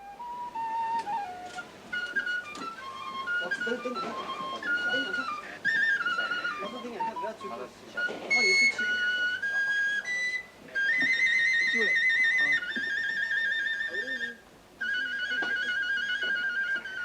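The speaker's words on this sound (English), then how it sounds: "There was a flourish of penny whistle Percy Grainger." A penny whistle plays a lively Percy Grainger tune at an afternoon tea aboard the Royal Yacht Britannia, bright high notes in quick runs and held phrases, with a voice heard early on.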